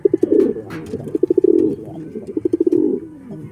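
A pigeon hen coos close by in low, throaty bursts, each one a quick stutter of pulses swelling into a longer rolling coo, repeated three times with no talking.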